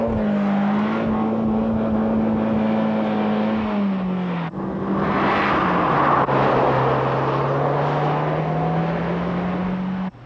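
A turbocharged 2-litre, 220-horsepower engine in a 1992 Ford Escort RS Cosworth revs and accelerates up close, its steady drone rising and shifting pitch as it pulls hard through the gears.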